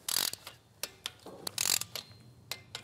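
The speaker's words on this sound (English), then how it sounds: "now we can torque everything down. And we're gonna torque these down to 9 foot-pounds" Torque wrench clicking while tightening valve cover bolts to 9 foot-pounds on an engine, a run of sharp ratcheting bursts and separate clicks close up, with short pauses between strokes.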